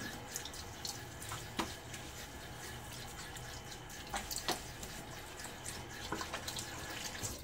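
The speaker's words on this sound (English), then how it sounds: "Do a little rinse." Tap water runs steadily into a sink while rinsing during a wet shave with a Nacet blade, a broadband wash with a few brief splashes and drips, fairly faint and close, with no talk over it.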